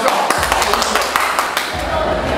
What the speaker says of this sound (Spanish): nosotros la abuela Verónica Rodríguez, un aplauso